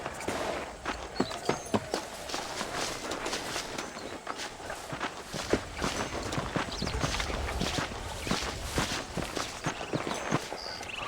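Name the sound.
horse hooves walking in video game Red Dead Redemption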